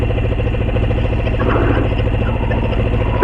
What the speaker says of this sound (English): you can come rev up the bike